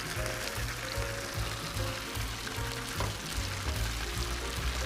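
Onion rings deep frying on a Camp Chef griddle give a steady, moderate sizzle and bubbling hiss that runs unbroken, with no talking.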